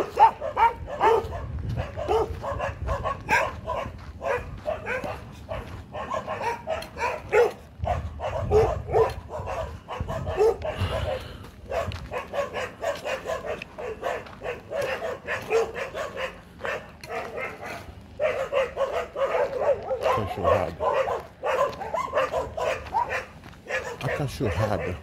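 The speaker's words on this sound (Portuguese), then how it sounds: "Cachorrada." A pack of dogs at a farm barks and yips in overlapping bursts, some near and some farther off, with a few whimpers, while people talk intermittently over the din.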